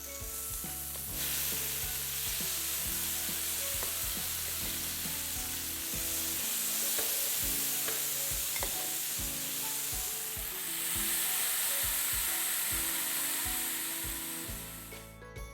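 Marinated halloumi pieces sizzle on a hot grill, a loud, continuous crackling hiss close by with scraping and clicking from the pieces being placed, swelling in intensity partway through.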